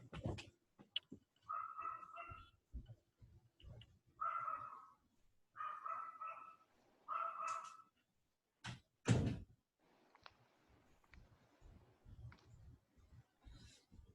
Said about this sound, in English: I will go close the door.